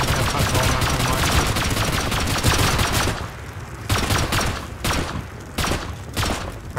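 Dense, sustained automatic gunfire in the survival game Rust during a raid, loud and continuous for about three seconds, then breaking into sharp separate bursts with brief gaps.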